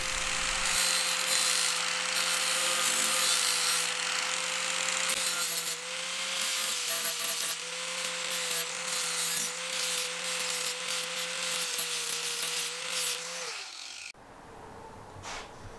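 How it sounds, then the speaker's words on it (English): A flap disc grinds a metal car fender around a frenched antenna tube, a loud steady whining rasp with a sustained tone that runs continuously and then winds down near the end. "carefully go around those areas with the flap disc, taking a little bit at a time"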